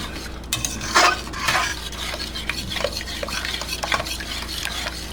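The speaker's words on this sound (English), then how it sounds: "Stir it up." A spoon stirs yogurt and evaporated milk into butter chicken sauce in a pot, giving scraping, clinking strokes in an irregular rhythm over a faint simmering sizzle, close and fairly quiet with no talking.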